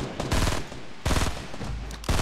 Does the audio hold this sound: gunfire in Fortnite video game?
yes